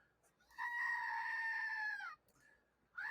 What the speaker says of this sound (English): This is one of those screaming goats.